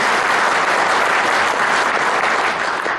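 Loud, continuous applause from an audience at a Hope for Orphans presentation, a thick wash of many hands clapping that holds steady throughout and fades slightly at the very end.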